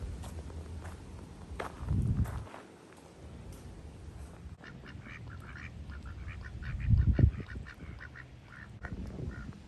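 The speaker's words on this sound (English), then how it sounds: "Oh, I see the ducks." Ducks quacking beside a lake in a national forest, brief calls scattered over outdoor rustle and footsteps, with a couple of louder low bursts near the microphone.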